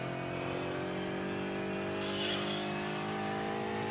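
A GT3 race car engine drones steadily in iRacing at the Nürburgring 24h, a sustained buzzing whine that swells slightly as the car draws nearer, with no talking.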